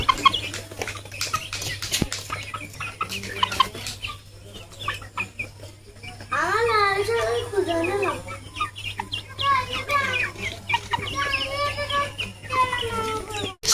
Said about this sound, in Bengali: তো দেখো মুরগিগুলো, কত মুরগিগুলো বড় হয়ে গেছে না